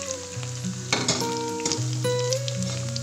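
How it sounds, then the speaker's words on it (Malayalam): Onion, ginger and garlic sautéing in a pan for a vegetable stew, a steady close sizzle with stirring scrapes and clatter throughout, no talking. "ചുവന്നുള്ളി, വെളുത്തുള്ളി ചേർത്ത് നന്നായി വഴറ്റിയെടുക്കുക."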